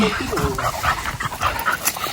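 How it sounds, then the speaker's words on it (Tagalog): Two dogs at the entrance to a farm hut, giving short yips and whimpering barks close by, mixed in with someone talking over them. "At dito pala sa Bukana ay nadito na itong dalawang aso."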